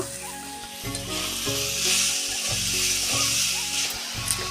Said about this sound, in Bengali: এভাবে ভালোভাবে নাড়াচাড়া করে ফ্রাই করে নিতে হবে